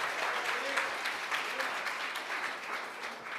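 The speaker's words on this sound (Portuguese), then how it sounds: "Você pode dar uma salva de palmas ao Senhor?" A church congregation claps together in sustained, dense applause at a live service, steady and loud throughout with a faint voice underneath.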